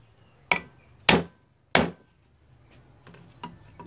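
Three sharp hammer strikes drive nails into a wooden broom handle, sounding close and distinct in quiet surroundings, followed by lighter taps and handling noises.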